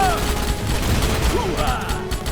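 Gunfire in the PC game Starship Troopers, rapid battle shots packed under a dense, loud wash of combat noise, with a voice shouting over the din.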